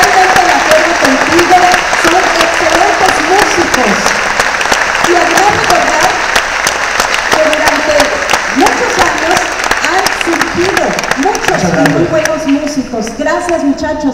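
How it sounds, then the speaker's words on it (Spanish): An audience gives strong, sustained applause for the honored Tampico municipal band, the clapping dense and steady throughout, with voices calling out over it. "muy fuerte aplauso a nuestros homenajeados, a nuestra queridísima banda municipal de Tampico"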